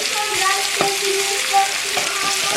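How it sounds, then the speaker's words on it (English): Oxtail braising in a Jamaican dutch pot, sizzling with a steady, dense hiss and crackle throughout, close and loud, with light stirring knocks and no clear speech. "So I'm just braising the oxtail before I put it in the pressure cooker."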